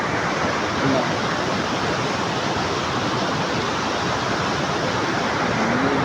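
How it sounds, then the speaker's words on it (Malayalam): Floodwater after heavy rain rushes over the top of a bridge, a loud, steady roar of turbulent water that stays constant and close for the whole stretch. "നല്ല വെള്ളം പാലത്തിൻ്റെ മേലെ കൂടെ ഫുള്ള് വെള്ളമാണ്"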